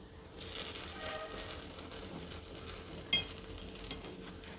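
Paddu batter sizzling steadily in a covered paddu pan on low heat as the dumplings are flipped, with a close, continuous frying hiss and a few soft metallic scrapes and taps, no talking.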